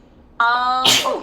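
A single sharp sneeze bursts out at close range, ending with a breathy release, and a brief word is spoken just before it.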